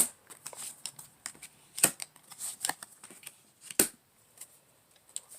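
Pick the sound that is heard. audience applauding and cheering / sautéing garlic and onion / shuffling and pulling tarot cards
shuffling and pulling tarot cards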